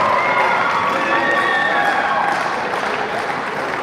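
Spectators cheering at a neighbouring court during a para-badminton international final, a loud, steady crowd roar with mixed voices and applause, fading slightly toward the end.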